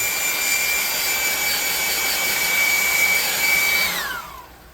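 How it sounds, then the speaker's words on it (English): A hair dryer roars loudly with a high whine over a handmade cleaver, then powers down and its pitch falls as it winds off. "With the cursed hair dryer of whatever it's cursed with."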